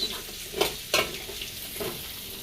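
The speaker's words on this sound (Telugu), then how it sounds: "మాడినాయి ఫస్ట్ పల్లీలు తర్వాత తాలింపు గింజలు" Peanuts and tempering seeds frying in hot oil, a soft sizzle broken by a couple of sharp crackles and stirring scrapes, close and alone without talk.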